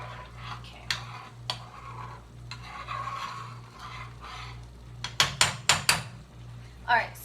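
Rice stirred in a pot: soft scraping, then a quick run of sharp metallic clanks and knocks of a utensil against the pot, close by, with a low hum underneath.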